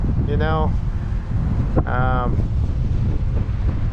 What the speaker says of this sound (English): Definitely a lot of wind.